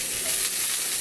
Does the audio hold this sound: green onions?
yes